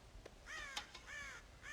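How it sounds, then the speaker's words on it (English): Crows caw in the video game Red Dead Redemption, raiding a ranch corn silo: a few faint, harsh caws come in quick succession, alone and distant. "God damn crows!"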